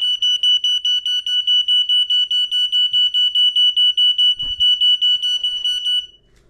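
A 2024 smoke alarm made in Mexico sounds its test signal: a loud, shrill electronic beep repeating in a fast, steady rhythm, about twenty pulses, close by with a brief thump partway through before it stops.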